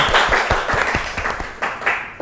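A small audience at a campus talk event claps briefly, a few distinct, uneven hand claps close by in a loose rhythm that quickly thins out.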